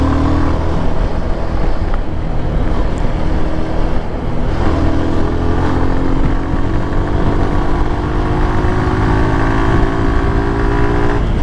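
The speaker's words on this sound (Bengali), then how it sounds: "আপনার থ্রোটল দেওয়ার সাথে সাথে আপনি একটা বাসকে ওভারটেক করতে সক্ষম হবেন, যেমন দেখাই দিছি আমি" Suzuki Gixxer motorcycle accelerating on a road to overtake a bus, a steady loud engine drone with rising pitch and constant wind rush throughout, no voices.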